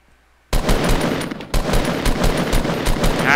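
Rapid automatic gunfire from the Fortnite video game rattles in long, loud bursts after a short quiet start, with a brief gap midway.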